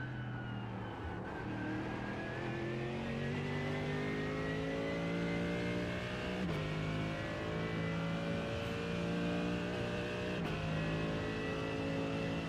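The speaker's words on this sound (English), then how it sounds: "I really do like the sound of the Lambo." GT3 race car engine in the iRacing sim, a Lamborghini among the field, holding a loud, steady high-revving drone with rising pitch sweeps and brief gear-change dips throughout, no voices.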